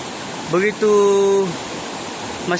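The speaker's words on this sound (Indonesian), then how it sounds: "Sungai yang begitu deras yang menggambarkan bahwa air ini masih" Fast-flowing mountain river rushing as a steady broadband wash throughout, with a voice briefly speaking over it near the start and again at the end.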